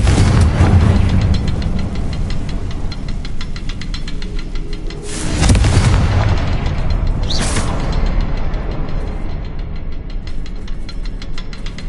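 Confringo fire-spell blasts in Hogwarts Legacy on PS5 erupt as loud, rumbling booms, with a heavy burst midway and another sharp flare shortly after over dense, constant game noise.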